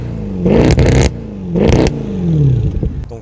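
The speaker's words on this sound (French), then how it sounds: "V8 atmosphérique, qui fait un son assez hors du commun" A Mercedes C63 AMG with a naturally aspirated V8 revs hard in two loud, close bursts, each rising sharply then dropping back with a crackling, rumbling fall, followed by a third gentler swell.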